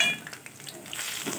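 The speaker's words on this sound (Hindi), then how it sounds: "इस तरह इसको फ्राई कर लेना है।" Andarsa sweets frying in hot oil, a steady, moderately quiet sizzle and hiss with faint bubbling pops throughout, no voices.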